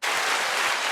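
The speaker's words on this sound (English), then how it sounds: "Round of applause, golf clap." Applause bursts in suddenly and holds steady as a dense, close wash of clapping on a sports podcast after a Notre Dame win over Navy, with no speech over it.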